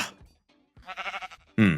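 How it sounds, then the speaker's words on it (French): Sheep in the video game Minecraft bleat in short, close calls, one brief call at the start and a louder one at the end, with a voice talking in between. "c'est un mouton"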